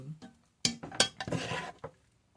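A big spoon scrapes applesauce from the bottom of a pot, giving a few sharp metallic scrapes and clinks followed by a longer drag, close up with no talking.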